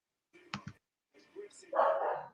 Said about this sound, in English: I don't know whether you can hear my dog in the background, Luna, barking her head off.